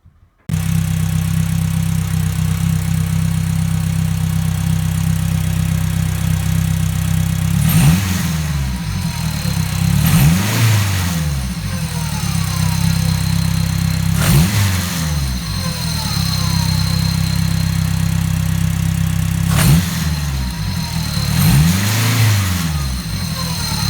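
Car fitted with a Precision 6266 ball-bearing turbo runs at a steady loud idle, then revs sharply three times in spaced bursts that rise and fall back, with no talking.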